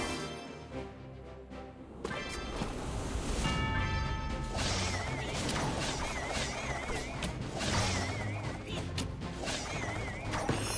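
A Goblin Machine unit in the Merge Tactics mode of a mobile strategy game, with continuous mechanical clanking, ratcheting and crashing battle effects layered over game music, loud and steady with no talk.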